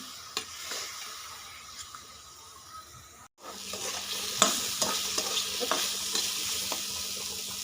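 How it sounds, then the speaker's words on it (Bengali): Tender pumpkin peel frying and being stirred in a pan, a steady close sizzle with scraping stir strokes, a brief dropout partway, then louder sizzling with repeated spatula clicks. "কোমল খোসা যে এটাকে খুব ভালোভাবে ভেজে নিতে হবে"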